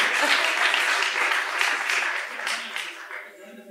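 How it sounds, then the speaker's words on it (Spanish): An audience at a coworking demo day gives a dense burst of applause that stays full and then gradually tapers off. "Fuerte el aplauso para él y para Geraldine por su alegría."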